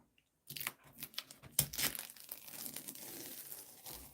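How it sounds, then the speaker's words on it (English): Masking tape peeled from the edges of a finished watercolor cafe painting, a close crinkling, tearing rasp in uneven bursts that runs continuously for several seconds with no voices. "let me just take the tape off"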